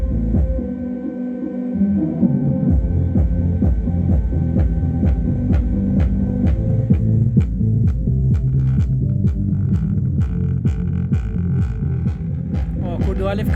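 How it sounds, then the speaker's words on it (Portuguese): Loudspeaker with a loose tinsel lead wire slapping against the cone, a loud low throbbing hum with rapid rhythmic buzzing pulses, close and steady. "a cordoalha fica batendo"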